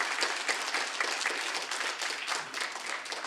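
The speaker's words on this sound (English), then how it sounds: "So let us give them a round of applause." Audience applause fills a room during the President of Ukraine's yearly press conference: a dense, steady wash of many hands clapping at once, sustained and fairly loud without a break.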